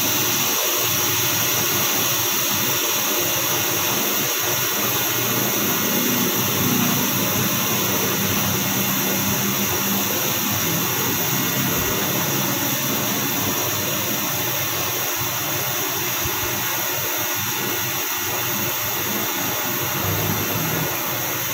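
An espresso maker boils on the stove, giving off a continuous loud hiss and rushing bubbling that holds steady without pause, with no talking.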